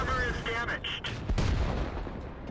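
A tank gun fires in World of Tanks, a single heavy boom in the middle of busy game sound, with a voice talking over it.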